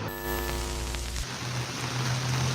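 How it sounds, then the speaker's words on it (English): Steady rain falls outdoors as a broad, even hiss; a low tonal hum sits beneath it at the start, then gives way to a different hum partway through, with no voices. "It's raining."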